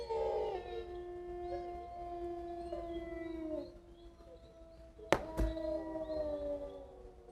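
A person imitates a wolf, holding a long wavering howl, then a second howl after a sharp click, with faint room noise underneath.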